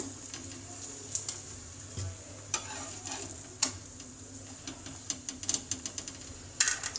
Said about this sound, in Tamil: கொஞ்சம் சுற்றி நெய் விட்டுக்கோங்க.